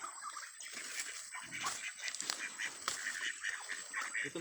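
Several farm ducks quack in a short, steady outdoor chorus of overlapping calls, moderately close, with no talking.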